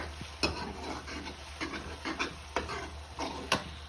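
A quiet, steady sizzle of hot oil with several sharp clicks and scrapes of a utensil stirring in a pan, no voices.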